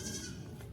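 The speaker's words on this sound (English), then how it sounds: "The goats are hollering." Goats on a farm bleat and holler close by in a short, loud burst, along with a low rumble of the surroundings.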